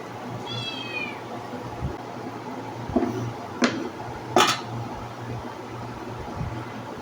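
A pet cat in a home kitchen gives one clear, falling meow near the start, followed by a few soft knocks and clicks over a low, steady fan-like hum.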